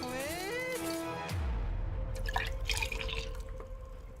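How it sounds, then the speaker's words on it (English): A drink poured in a strange, dreamlike fantasy game: a brief tonal chime gives way to a steady, close stream of liquid filling a vessel, with light trickles and drips continuing to the end. "I'll pour up some drink."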